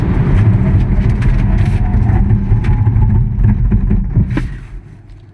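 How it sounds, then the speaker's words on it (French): An MG4 X-Power electric car brakes hard from speed, a loud, dense road and motor rumble that holds steady and then fades away over the last second as the car comes to a stop; no talk. "freinage d'urgence"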